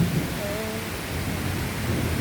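Steady roar of heavy rain with wind during a summer thunderstorm in Washington, DC, a broad continuous wash with no distinct thunder crack and a faint tonal whine near the start.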